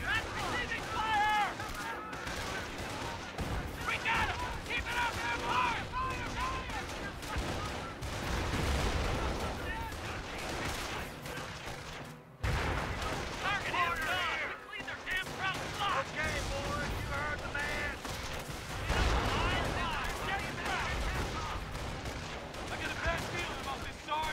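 Gunfire and artillery in the Company of Heroes: Tales of Valor video game, Normandy invasion at Carentan, a dense continuous barrage of shots and booms with a brief lull midway, heavy mixed combat sound throughout.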